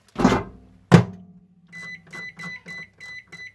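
A microwave oven starts up to heat a pierced-lid triple cheese and pepperoni lasagne: two heavy thunks of the door and buttons, then a steady run of short rhythmic electronic beeps and hums close by.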